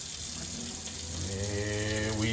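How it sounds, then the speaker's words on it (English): Tap water runs steadily over goat meat being rinsed after a vinegar wash, a close, continuous splashing hiss with a faint low hum beneath. "I'm gonna rinse it off and hopefully I can get all the water off of it"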